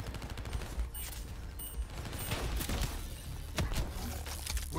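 A big gun firing in the video game Call of Duty Black Ops 3: loud, dense bursts of rapid gunfire with scattered sharper shots, continuous throughout over a rumbling battle background.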